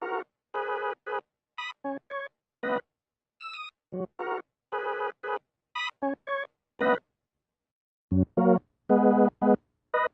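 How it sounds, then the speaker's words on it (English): A B3-style organ emulation plays a short choppy intro for a track, built from staccato chords and bursts with brief silent gaps, close and alone. "the organ comes in. So we started with like a B3 emulation,"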